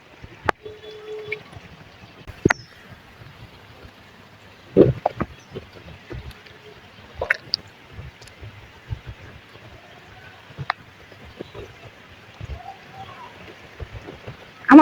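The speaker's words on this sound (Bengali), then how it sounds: "ঝিরি ঝিরি বৃষ্টি, ভালোই লাগতেছে এই ঝিরি ঝিরি বৃষ্টির মধ্যে ভিজতে" Light drizzle patters softly and steadily on surfaces, with scattered sharper drops and faint clicks over a quiet, continuous background hiss.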